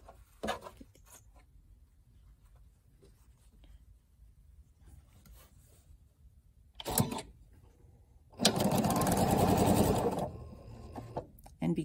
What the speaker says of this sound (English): We're going to sew 2 of these sets together to make the square of the pinwheel.